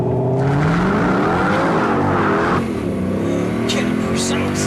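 A 2006 Mercedes-Benz SLK 55 AMG in sport mode accelerates hard, its engine roaring loudly and rising in pitch through gear changes as the car pulls away, with someone speaking over the engine.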